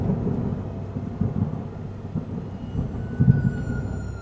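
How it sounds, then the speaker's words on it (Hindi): Deep thunder rolls and rumbles over a steady wash of heavy rain, swelling in low bursts without pause. "बाहर मूसलाधार बारिश लगातार बरस रही थी और ठंडी हवाओं की सीटी कानों को चुभ रही थी।"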